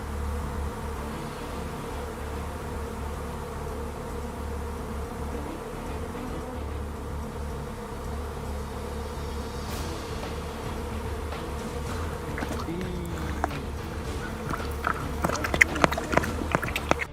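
Bees swarm around a hive, their dense steady buzz filling the air continuously, with some faint scuffing and rustling sounds growing toward the end.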